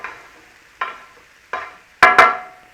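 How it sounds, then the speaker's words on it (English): Chickpea curry paste with tomato stirred in a pan, giving a few separate scraping, sizzling strokes followed by a quicker double stir, close and fairly loud with no talking. "So just give that a little quick stir around."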